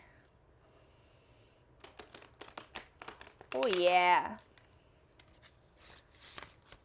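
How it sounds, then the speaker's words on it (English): A quick riffle of tarot cards shuffled close by, a short crisp burst in the middle, with scattered taps and brief speech around it. "I'm getting pretty good at shuffling."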